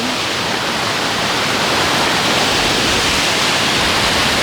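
Water pours over a small waterfall in a continuous, loud, even rush of broadband noise, close by with no voices.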